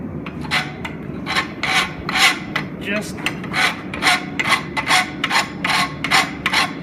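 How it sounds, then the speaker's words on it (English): Farrier's rasp filing a metal dagger blank clamped in a vise, a steady run of about a dozen rhythmic rasping strokes, close and fairly loud, with no talking. "I'm trying to file it down so it's square."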